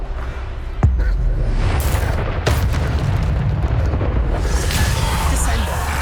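Bombarda spell explosions in Hogwarts Legacy combat, with a loud deep boom followed by a second blast and rumbling debris under dense, continuous battle noise.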